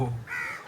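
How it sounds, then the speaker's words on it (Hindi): A crow perched in a tree-filled, wooded area behind a house rooftop caws once, a single clear call heard fairly close, preceded by a brief low murmur. "ये कौआ कहाँ पे बैठा हुआ है ये बैठा है कौआ"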